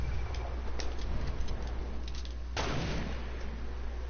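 A single sharp sniper rifle gunshot cracks out partway through a Fortnite match, with faint earlier pops and a steady hum of game background noise.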